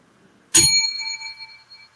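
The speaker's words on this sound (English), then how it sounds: "I just hit the bell." A bell struck once, a sharp bright ding that rings on and fades slowly in an otherwise quiet room.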